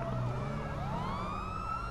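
A police car siren wails in the video game GTA 5, a sweeping electronic tone that rises and falls in repeated loud cycles over a low vehicle rumble.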